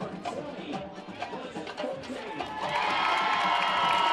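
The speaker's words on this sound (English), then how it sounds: "the crowd explodes here as they hear the score and hear that Clear Forks wins" Stadium crowd at a high school football game erupting into cheers and shouts as the final score is announced, scattered whoops and youthful yells building into a louder, sustained roar.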